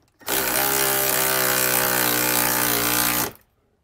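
A power driver whirs steadily for about three seconds while tightening the mounting bolts of a Furrion Chill HE RV air conditioner on a camper roof, a loud, even mechanical buzz that starts and stops abruptly.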